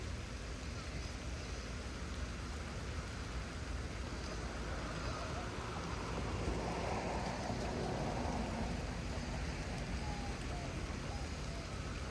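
Steady rain falls during a lightning storm in Houston, Texas, a dense, even hiss with no clear thunder claps, heard at a moderate, constant level throughout.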